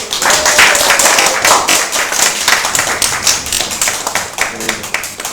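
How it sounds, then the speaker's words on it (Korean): A church congregation at a Sunday worship and baptism service gives loud, close applause of many hands, steady and continuous throughout with sharp individual claps standing out. "다시 한번 큰 박수"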